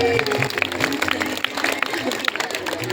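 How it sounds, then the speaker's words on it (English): A group applauds a student at a Children's Day celebration, with quick, uneven claps running throughout beneath a voice speaking over them. "Let's give a round of applause for Lavanya"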